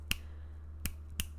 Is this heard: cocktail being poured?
no